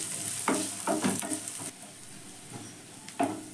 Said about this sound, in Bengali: এবার আদা রসুনের সঙ্গে পেঁয়াজ আর লঙ্কাটাকেও ভালো করে একটু ভেজে নেব।